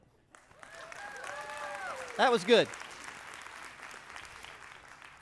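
Church congregation clapping, a moderate round of applause from the pews lasting a few seconds, with a pastor speaking briefly over it.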